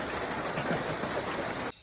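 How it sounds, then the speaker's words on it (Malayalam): Heavy rain falls in a steady, dense hiss at moderate level, cutting off abruptly just before the end, with no voices. "മഴ ഫുള്ളും മഴ പെയ്തുകൊണ്ടിരിക്കുകയാണ്"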